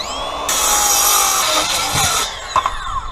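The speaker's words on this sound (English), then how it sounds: "go ahead and cut the pole for the weights to hang on" A power saw cuts through a 2x6 wooden board: a loud, steady whine runs for about two seconds, then winds down, followed by a few knocks and clatters.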